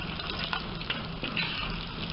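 Vegetables frying in hot fat in a pan and stirred continuously until golden brown, giving a steady close sizzle with a few soft scraping touches and no voices.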